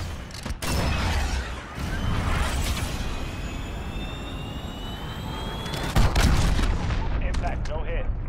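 A missile strike in Call of Duty: Modern Warfare, heard as a loud, sustained roar of jet and launch noise with rumbling impact and a burst near the end, mixed with radio chatter.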